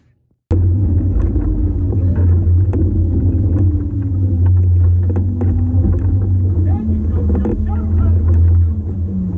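Trolling motor on spot lock holding a fishing boat in position without an anchor, a loud continuous low droning hum with engine-like rumble and some water noise, running steadily throughout.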